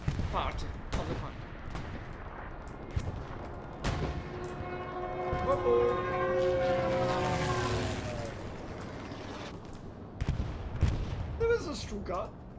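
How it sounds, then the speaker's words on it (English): A Stuka dive bomber in the World War II shooter Hell Let Loose: a wailing siren tone swells and bends through the middle of the clip, over scattered gunfire and muffled blasts. "There is a Stuka."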